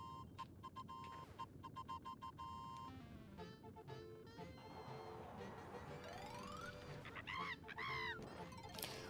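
Birdlike character voice in Super Mario 3D World, high chirpy warbling squawks over busy game music and sound effects, rising toward the end.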